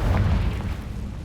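A Confringo fire-spell explosion in the Hogwarts Legacy video game: a deep, rumbling boom that rolls and slowly fades over about a second, loud and close, with no talk.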